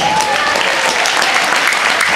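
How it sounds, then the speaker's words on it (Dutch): Loud, dense crowd applause for cowboys at a pony park show, sustained clapping throughout with a faint whistle or tone early on. "wil ik even een groot applaus voor onze cowboys."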